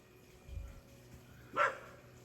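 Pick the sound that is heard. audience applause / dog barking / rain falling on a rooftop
dog barking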